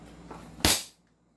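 An airsoft pistol fires a single sharp crack that decays quickly into silence, with faint background murmur before the shot.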